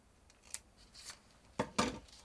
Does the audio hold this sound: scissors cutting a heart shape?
yes